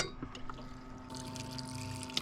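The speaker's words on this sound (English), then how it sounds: "Chuck some water on them." Water runs and pours steadily into a pot, its tone rising slightly as it fills, close and fairly quiet.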